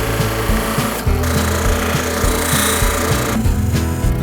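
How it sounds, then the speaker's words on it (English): A spinning buffing wheel polishes a handcrafted knife blade with a steady, close, grinding whir and uneven scuffing pulses as the blade is pressed and moved against it. No one talks. "So now we're going to buff it and see how many scratches are left in it yet."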